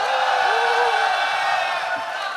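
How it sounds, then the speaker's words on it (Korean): An audience at a live Blue Archive four-year anniversary event cheers and whoops in a loud, sustained wash of crowd noise that fades slightly toward the end. "다들 좋아해 주시고 환호해 주시는데"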